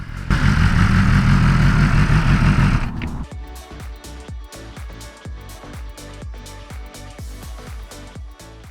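A BMW S1000RR sportbike engine runs loud and steady for about three seconds, then cuts to a lower, rougher mechanical chugging with rhythmic pulses that continue to the end. No one speaks.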